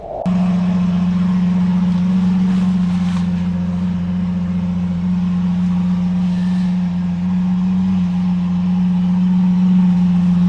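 Lamborghini SVJ supercar driven on the road, its engine giving a steady, loud low drone with a strong constant hum throughout and no speech.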